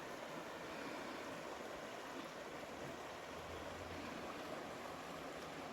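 The McKenzie River flowing nearby on a quiet day, a continuous soft broadband rush of moving water, steady and fairly faint with no voices.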